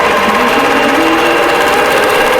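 An embroidery machine stitches out a design on a winter table runner, giving a steady, close mechanical whir and rapid needle chatter with no talk.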